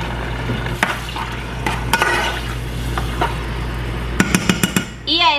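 Tomato salsa poured over softened chile and onion sizzles in a pan, a steady frying hiss broken by spoon stirs and several quick clinks of utensil on the pan, with a voice briefly heard at the end.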